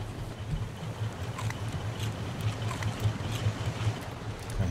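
Raft fitted with four motors in the survival game Raft, a steady low engine drone humming continuously over washing water and wind, moderately loud and without talk.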